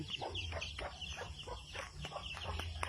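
Free-range chickens cluck in a busy, overlapping stream of short calls, fairly close, behind a house in Antequera, Bohol, over a steady low background hum; no talking.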